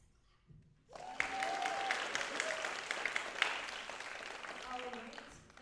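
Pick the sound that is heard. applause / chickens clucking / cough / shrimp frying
applause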